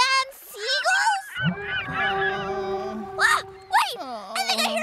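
Seagulls call over the open ocean in a series of loud, close, honking cries, several overlapping in quick bursts with short pauses between them.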